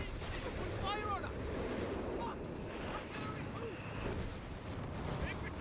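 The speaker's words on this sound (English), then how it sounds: "The officer gets another barrage here." A World War II artillery barrage booms in a Company of Heroes 3 battle, with dense, continuous rumbling blasts and crackling impacts filling the scene while a voice talks faintly underneath.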